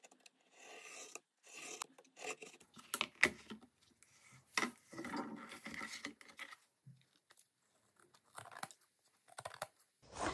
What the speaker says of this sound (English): And then I'll cut the front and back covers off of the spine.